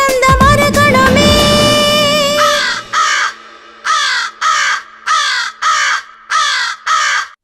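A crow caws loudly and close in a steady series of about six harsh, evenly spaced calls, following a short stretch of music that fades out.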